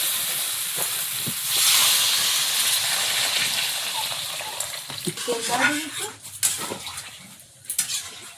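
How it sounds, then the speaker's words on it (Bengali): Water poured onto spiced potatoes frying in a pan, setting off a sudden loud hiss of steam that settles into a bubbling sizzle, with clattering utensils and people talking nearby toward the end. "এবার জল দিয়ে দেবো"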